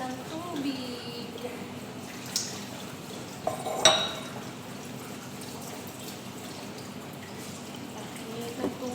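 Dishes being hand-washed in very hot water: faint running water with scattered clinks of plates and cutlery, one sharper clatter near the middle, under a person talking.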